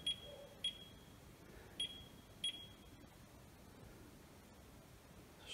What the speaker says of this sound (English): it's randomly beeping now, while it's saying, please wait